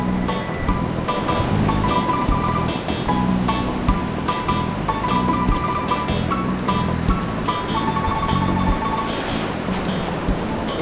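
Rough sea surf at Tortuga Bay beach in the Galápagos, a steady, loud wash of breaking waves rolling on continuously with no voices.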